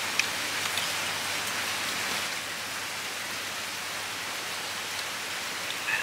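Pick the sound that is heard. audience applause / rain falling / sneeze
rain falling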